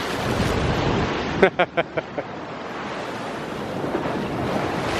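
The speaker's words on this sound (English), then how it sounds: "as the waves are rolling in from that boat. All that crashing going on." Stormy ocean surf rolling in and crashing seen from a ferry near Southport, North Carolina, a steady loud wash with wind buffeting the microphone and a brief series of knocks partway through.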